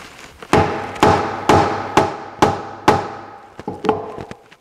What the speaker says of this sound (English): You want to put it in that slot and then you tap it.